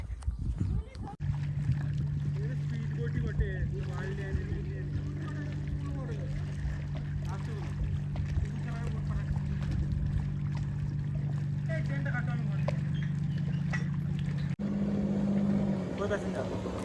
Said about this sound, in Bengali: বোট আমাদের পৌঁছে গেছে